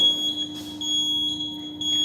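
Electronic beeping on a flight, heard as steady high-pitched tones and chirps over a constant low cabin hum, repeating through the clip with no talk.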